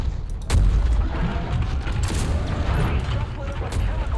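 A chemical tank blows up in MechWarrior 5 amid battlefield combat: a heavy boom hits after a brief lead-in, followed by sustained rumbling debris and crackling explosions at steady loud level, with muffled radio chatter mixed underneath.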